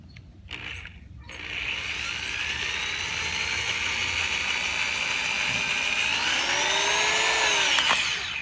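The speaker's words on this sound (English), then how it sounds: "first we're just going to drill a through hole here for air." A power drill bores a through hole in a plastic toy gun, a steady whining motor drone that runs continuously for several seconds and rises slightly in pitch near the end, close and alone after a brief clunk at the start.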